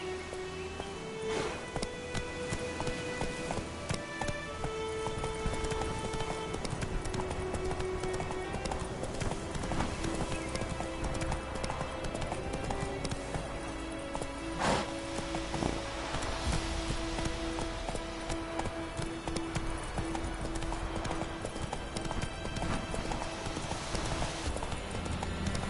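A horse's hooves clip-clop in a steady walking rhythm, close and continuous throughout, with a busy background of other sounds.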